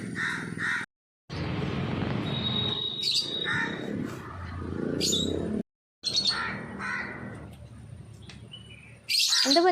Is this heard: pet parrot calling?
yes